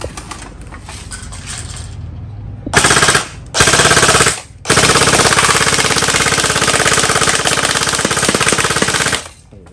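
A CYMA Thompson M1A1 Chicago airsoft gun (model CM.051, metal body, wood-grain plastic furniture, aftermarket battery) fires loud, rapid full-auto bursts up close: two short bursts, then one long sustained stream, with no talking.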